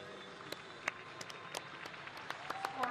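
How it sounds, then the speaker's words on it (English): Spectators clap in scattered bursts after an ice dance rhythm dance lift at a Grand Prix figure skating event in an arena, the applause sparse and fairly faint rather than a full ovation. "that really brought the applause raining down from the"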